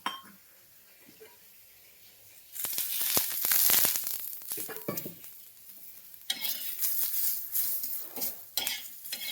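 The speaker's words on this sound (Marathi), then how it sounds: "थोडंसं तेल टाकून भाजून घ्यायचंय कांदा" Lengthwise-sliced onion frying in a little oil in a pan, for a ground masala paste for patvadi: a quiet start, then steady close sizzling with repeated stirring scrapes and light metallic clinks of a spoon against the pan.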